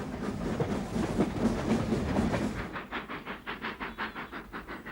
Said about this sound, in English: The first locomotive to 100 miles an hour.